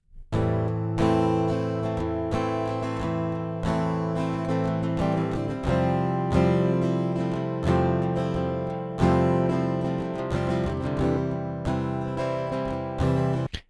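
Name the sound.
DI recorded electric guitars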